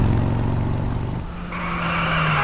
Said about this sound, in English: I can hear a motorcycle.